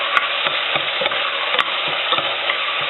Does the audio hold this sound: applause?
no